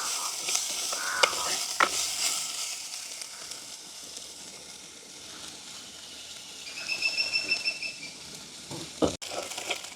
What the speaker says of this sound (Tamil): வெங்காயம் பச்சை மிளகா ஓரளவுக்கு வதங்கிட்டுது